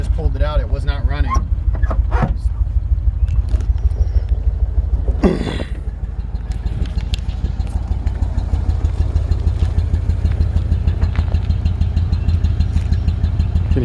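A 1938 Ford F1 pickup engine, recently revived after barn storage, runs at a steady low idle with a rhythmic throbbing pulse, close and loud, while someone talks over it at the start.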